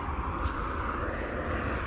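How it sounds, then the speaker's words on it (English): A fixed-wing airplane flying over a residential street in Birmingham, UK, a steady broad engine roar that stays loud and even throughout, with no break in the drone. "plane is coming now"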